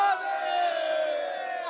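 Crowd at a rally in Deoghar, Jharkhand, raising the Har Har Mahadev chant together, a sustained loud mass of voices holding the slogan without pause.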